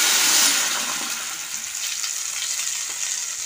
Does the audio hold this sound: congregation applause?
no